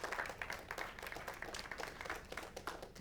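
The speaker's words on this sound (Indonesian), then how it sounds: "Tepuk tangan buat Pak Diki ya" Audience applause at a talk session, a continuous patter of many hands clapping, faint and steady throughout.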